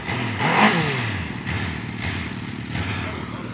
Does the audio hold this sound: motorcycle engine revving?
yes